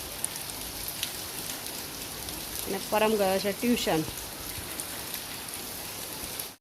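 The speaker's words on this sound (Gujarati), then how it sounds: "ત્યાં જ વરસાદ આવ્યો છે" Steady rain pours down outside, a constant broadband hiss that runs through the whole stretch, with a person talking briefly over it in the middle.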